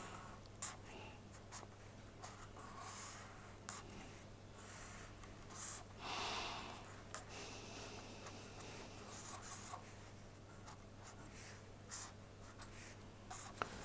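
Chalk or pen writing on a board during a lecture on ethanol fermentation, with scratchy strokes in short bursts over a steady low hum, fairly faint, no speech.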